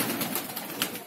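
Pigeons of old breeds in a loft, a brief soft burst of cooing and bird calls, fairly close but quiet, with no voices.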